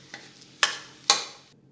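Spices dropped into hot oil for a tempering over a rague mix for ragda pani puri, giving two sharp sizzling bursts that each fade over a few tenths of a second, close and moderately loud.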